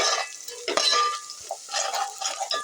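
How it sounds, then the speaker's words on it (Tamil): Ginger garlic paste gets stirred in a pan for vegetable biryani, with a spoon scraping and clinking in short bursts over a light sizzle, close up. "இப்போ நல்லா மிக்ஸ் பண்ணி விட்டுக்கலாம்"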